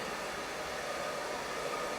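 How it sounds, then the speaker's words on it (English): A hair dryer blows with a steady, loud, unbroken whoosh while curly hair is dried and styled, with no voices over it. "And then go ahead and take your blow dryer."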